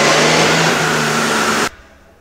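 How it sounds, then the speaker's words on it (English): Car engine revving hard on a dynamometer with its exhaust silencer ring removed, a loud sustained drone that holds steady, then cuts off abruptly near the end, leaving quiet. "All right, we're gonna run on the dyno again now."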